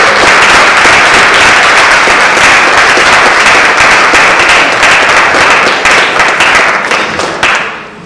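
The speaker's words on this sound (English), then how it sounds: "let's have a round of applause for" Sustained applause from an audience at a school board candidates forum, dense steady clapping close by for several seconds before fading out at the end.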